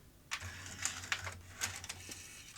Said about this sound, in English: one obvious thing to do is try a head cleaner tape.